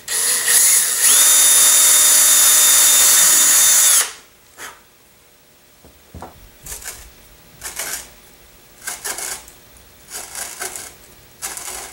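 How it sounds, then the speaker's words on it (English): A power drill bores shear pin holes in a high power rocket's payload tube, one loud steady whirring burst of about three seconds that stops abruptly, followed by quieter clicks and handling noises. "Drill my holes and tap them for the shear pins"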